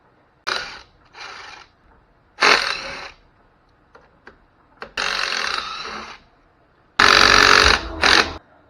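Ratchet wrench cinching down dry sump bolts on a K24 engine in an E46, several bursts of rapid clicking separated by pauses, close and fairly loud.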